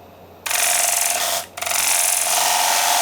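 A wood lathe's tool cuts through MDF or pressed board backing on a large turned platter, producing a loud, continuous scraping rasp that stops briefly once and then resumes, heard up close with no talking.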